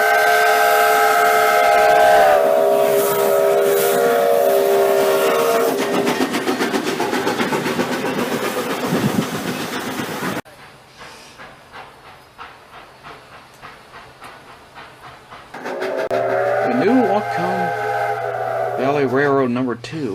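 A Milwaukee Southern Railway Lines steam locomotive hisses and chugs with rhythmic exhaust beats at a July 4th steam-up event, while a shrill steam whistle sounds loudly at the start and again near the end.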